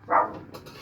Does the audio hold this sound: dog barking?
yes